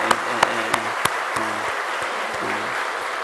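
A church congregation claps in honour of its elderly members, broad sustained applause filling the sanctuary with a few sharper claps near the start, while a low voice or music hums underneath.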